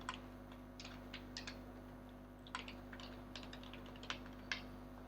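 A login email address and password being typed on a keyboard: scattered soft key clicks in small clusters, fairly faint, over a constant low electrical hum and no speech.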